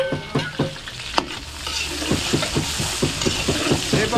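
Garlic and onion sautéing in a pan for a large-batch chop suey, a steady close sizzle with rhythmic scraping stirs and spatula knocks repeating through the clip, no talk.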